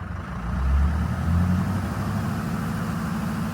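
A Ford PowerStroke diesel truck engine drones low and heavy, laboring as it tries to rev without climbing much, a steady close rumble with no voices.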